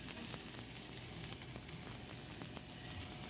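Sweet red onions frying in olive oil, a continuous close hissing sizzle with faint scattered pops and taps, steady throughout with no talk.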